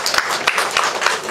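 Audience applause at an open-house event, a dense patter of many hands clapping with uneven peaks, fairly loud and close.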